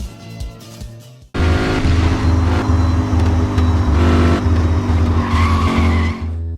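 Race cars in the Gear.Club Unlimited 2 video game drive hard after a brief quieter start. A loud, continuous engine roar with squealing, skidding tires runs close and steady to the end.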